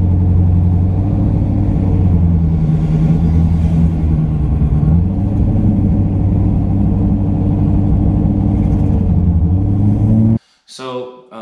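Race cars roar at a TX2K19 drag race, with a UGR-tuned Lamborghini in the field: a loud, sustained engine rumble runs nearly unbroken for about ten seconds and then cuts off abruptly.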